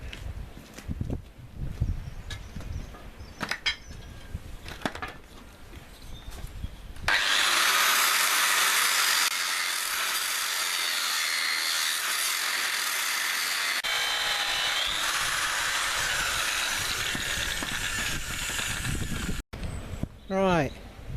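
Metal fettling and edge bevelling on steel parts for a rebuilt pellet burner of a Gejs biomass boiler, a loud, steady power-tool grind that runs for about twelve seconds after talk and workshop handling noises.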